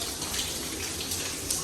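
Water gushes and drips from a broken indoor air conditioner, a dense continuous splashing rush heard up close with no voices.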